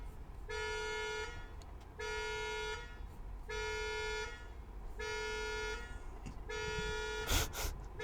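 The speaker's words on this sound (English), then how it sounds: "Somebody is having an alarm, I guess." Car alarm sounding outside, a steady honking tone repeating in five even blasts about a second apart, with faint background noise between them.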